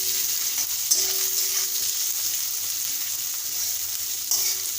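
Chopped large onion and green chillies sizzle and hiss in a pan as they are stirred, a steady close frying sound with a few scraping stirs and no talking.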